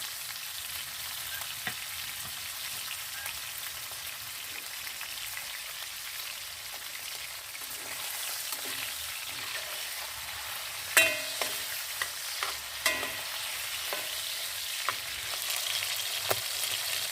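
Potatoes frying in oil in a cauldron set over an outdoor wood fire, a steady soft sizzle running throughout with a few louder crackles and pops toward the end, close by and without talk.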